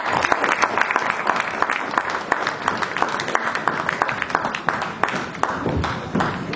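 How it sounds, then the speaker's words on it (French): Sustained applause from an audience filling a hall at a municipal election campaign meeting, dense overlapping claps steady and loud throughout, with faint voices mixed in. "encore une fois les applaudir"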